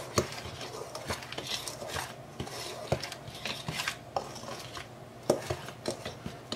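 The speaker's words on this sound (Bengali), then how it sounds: "আমরা খুব ভালো করে মিশিয়ে দিচ্ছি।" An herbal medicine mixture is stirred and mixed in a vessel, producing repeated close scraping and clinking strokes of a utensil in an irregular rhythm, fairly quiet and with no talking.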